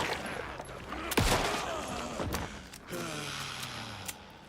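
Sharp gunshots ring out during a firefight in the video game Alan Wake 2, a few loud separate bursts over a dark, rumbling game ambience.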